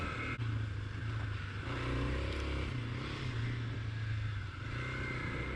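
A Yamaha TW200 motorcycle rides an off-trail, rough section, its single-cylinder engine droning steadily and loud throughout with slight rises and dips in pitch.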